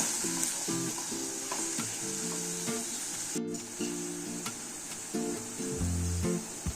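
Mustard-tomato masala fries in oil with cumin seeds, sizzling steadily while a spoon scrapes and stirs in a loose, repeated rhythm.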